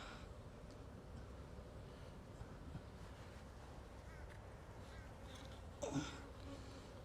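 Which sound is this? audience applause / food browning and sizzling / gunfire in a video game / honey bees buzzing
honey bees buzzing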